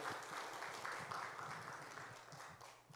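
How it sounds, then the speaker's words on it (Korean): Korean church congregation at Sunday worship clapping in praise to God and blessing one another, a full, continuous patter of many hands that holds steady and tapers slightly toward the end. "서로를 향해서 축복하며 박수 한번 하겠습니다"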